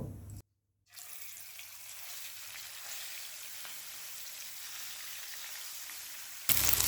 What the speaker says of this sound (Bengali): তেলটা গরম হয়ে গেছে মাছের পিসগুলো দিয়ে পাঁচ থেকে ছ মিনিট লাল লাল করে ভেজে নেব